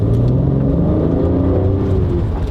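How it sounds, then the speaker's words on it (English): Mercedes C400 4MATIC engine accelerating hard in Sport Plus mode, a loud steady drone rising in pitch through aggressive gear shifts, close and continuous with no talking. "what you notice in Sport Plus are the gear shifts. They are a lot more aggressive and you really feel them"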